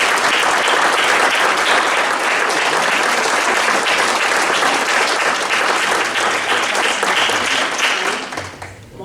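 Borough meeting audience applauding a retiring official's remarkable career, a loud, steady wash of many hands clapping that holds for about eight seconds before thinning out at the end.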